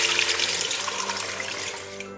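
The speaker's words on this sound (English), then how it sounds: "Now we can put in about 1 liter of cold water." About a liter of cold water is poured into a soup pot holding beef bones, a loud, close, continuous gushing splash that tapers slightly toward the end.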